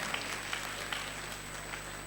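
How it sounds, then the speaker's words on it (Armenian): A church congregation claps together in worship, a steady, even patter of many hands with a few sharper accents, moderately distant and without talk over it. "Այո, ծափերով էլ օրհնում ենք Աստծուն։"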